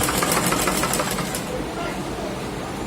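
A sewing machine runs in a rapid mechanical stitching rhythm along a corner, steady and close, fading slightly toward the end.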